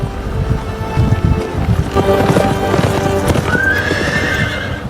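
Horses in a stable where they are kept, heard close by: hooves clip-clop and shuffle continuously, and a loud whinny rises near the end, with some wind noise underneath.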